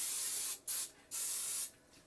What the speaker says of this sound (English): I'm going to spray these, you guys, so it's easier to clean up afterwards.